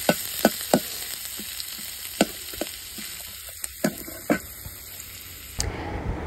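Onion frying in mustard oil in a pan, a steady hiss broken by several sharp clicks and scrapes of a utensil, close and fairly loud, with no one talking.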